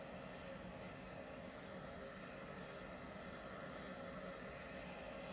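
Large aircraft engines drone in a steady, even roar at an airfield as a departure is prepared, distant and continuous with no talk over it.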